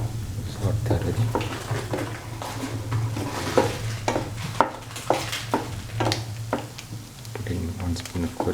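Fennel powder and salt being stirred in a cooking pan, a spoon scraping and tapping in repeated irregular strokes over a low steady sizzle, with a voice talking throughout.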